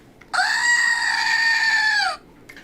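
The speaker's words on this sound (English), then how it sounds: "this is Billy the Screaming Goat" A screaming goat mascot toy lets out one loud, sustained, quavering human-like scream lasting nearly two seconds, close and alone, ending abruptly.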